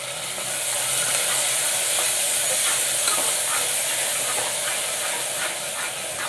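Coriander leaves frying with tomatoes in a pan for tomato bath, giving a steady, loud sizzle that holds evenly for several seconds with faint stirring scrapes underneath and no voices.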